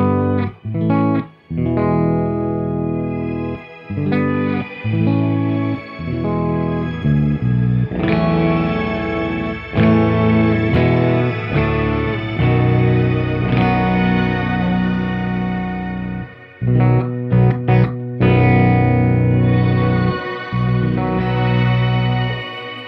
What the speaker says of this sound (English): Control the level of your reverb while you're going.